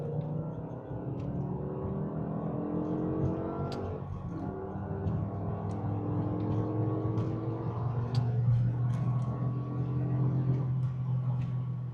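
A BMW E60 M5 drops two gears and pulls hard from inside the cabin, a rising engine drone with stepped pitch sweeps and occasional ticking clicks over steady road noise.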